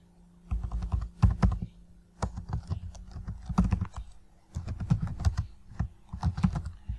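Name being typed on a computer keyboard while filling in a WordPress form field: bursts of quick, close, crisp key clicks in several runs separated by brief pauses, with no talking.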